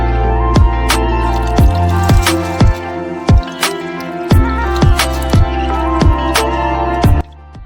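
Water boiling in a pot for cooking rice over a fired clay stove at an outdoor village picnic, close-up bubbling pops and plops arriving in a fairly regular rhythm about every half second over a steady low hum.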